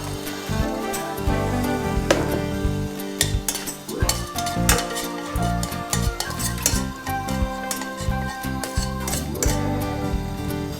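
Nuts fry in a pan while being stirred, a soft sizzle running under repeated scraping and clinks from a utensil against the pan, close and steady.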